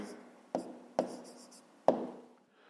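A pen writing down a math answer on paper, heard as three sharp taps or strokes spaced apart, each trailing into soft scratching, close and fairly quiet with no talk.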